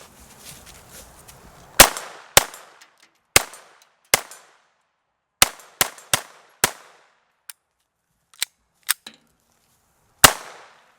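A Glock-style pistol with a .22 conversion, fitted with a hammer and drop safety, fires about fourteen sharp, loud shots in an uneven rhythm, some in quick pairs, with quiet gaps between them and no talking.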